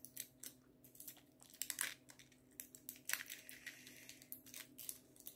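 Candy and gum packaging being torn and crinkled open, a run of close, sharp crackling and rustling bursts over a steady low background hum, with no talking.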